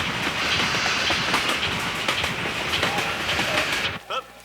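A train rumbles and clatters along the rails close by, a continuous loud rolling noise with clickety-clack beats, easing off at the end.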